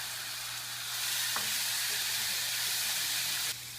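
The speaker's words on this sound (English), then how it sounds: "stir fry the onion" Onion stir-frying in a hot pan for a shepherd's pie, a steady close sizzle that swells louder after a moment, with a single light utensil scrape partway through, then drops back slightly at the end.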